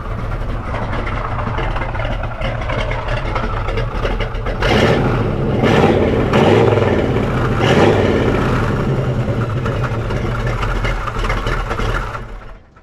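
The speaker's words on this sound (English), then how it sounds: "this car performs awesome down the road, and we'll see how it sounds out the tailpipes" A 1976 Pontiac Trans Am engine rumbles steadily through its tailpipes, loud and close, with a few throttle blips swelling the exhaust midway before it settles back to a deep idle; no one speaks.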